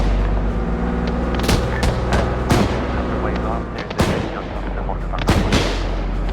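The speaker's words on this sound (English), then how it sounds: "AA gun, lighting them up." An anti-aircraft gun fires in the video game Arma 3 on a winter map, with heavy booming shots repeating at irregular intervals over a continuous rumble. A voice talks over the shooting.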